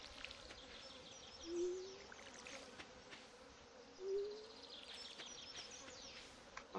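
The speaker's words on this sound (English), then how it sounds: "I honestly don't like the sound of bees." Bees buzz in Stardew Valley, a soft steady drone with two brief louder swells as they pass close, set over faint ambient game sounds.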